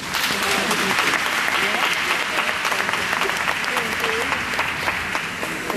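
Steady crowd applause fills an arena during a Danish horse show in 2010, dense clapping holding at an even level throughout, with a voice talking faintly beneath it.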